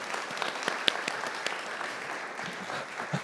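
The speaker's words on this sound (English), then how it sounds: "Could everyone give the mayor another clap for me?" Audience applause at a city design conference keynote for the mayor, a steady wash of many hands clapping alone for about three seconds.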